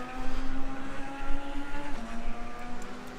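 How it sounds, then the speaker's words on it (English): A racing car in the video game Second Life makes a steady, droning engine sound, a continuous loud hum with a fixed tone that dips slightly partway through. No voices are heard. "The Good Samaritan's car emitting weird sounds that we do not identify"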